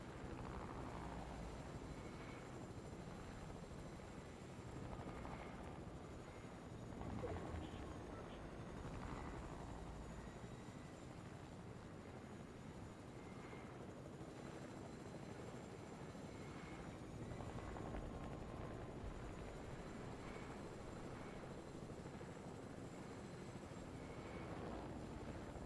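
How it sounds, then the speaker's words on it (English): A helicopter flies somewhere below, its steady rotor thrum and engine drone continuous and fairly loud throughout, with no voices. "Another chopper down below me."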